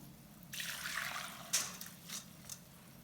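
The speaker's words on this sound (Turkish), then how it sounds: "Şimdi pirinçlerimizin suyunu süzüyorum." Water drains off soaked rice in a soft, trickling splash that starts suddenly, swells briefly and then tapers into a few faint drips and dribbles, heard quietly and close with no voices.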